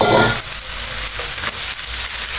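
Carrots and capsicum sauté in a pan for vegetable pasta, a loud, close, continuous sizzle with stirring scrapes running through the whole short stretch.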